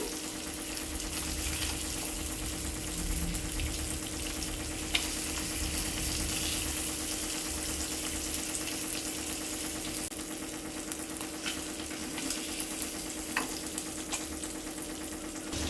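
Fish pieces frying in oil in a pan for fish biryani, a continuous dense sizzle with a steady bubbling hiss and occasional small pops, nearby and without talk.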